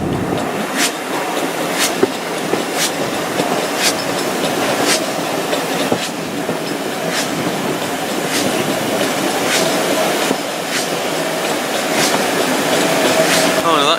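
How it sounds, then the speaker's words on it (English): Steam railway train passing at a spring steam gala on a heritage line, with loud wheel clickety-clack as cars roll by at a steady rhythm, close to the listener, with people talking in the background. "We have a locomotive here on its own, waiting."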